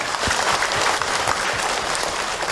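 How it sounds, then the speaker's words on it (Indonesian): Warm applause from a congregation at an Islamic religious talk, a full, even roar of many hands clapping at once, sustained and moderately loud with no talk over it. "Tepuk tangan buat beliau"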